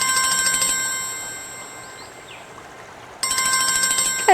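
A telephone rings in electronic bursts, pauses briefly, then rings again, loud and close with no talking.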